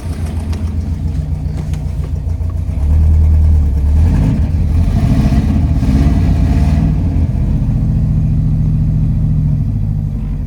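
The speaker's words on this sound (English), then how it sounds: "Here, I'll rev it up." A truck engine, cut in half in a shop, idles loudly, then revs up to a surging peak for a few seconds before settling back to a rough, steady idle, close up and with no talk.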